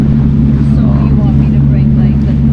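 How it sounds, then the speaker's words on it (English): A loud, steady motorboat engine drones with a deep low rumble and throaty exhaust, continuous and close throughout. "The boat is actually kind of loud. The exhaust is pretty strong."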